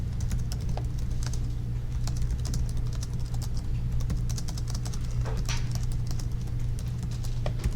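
Rapid, steady typing on a computer keyboard, dense key clicks running continuously over a low constant hum, close and fairly loud with no talking.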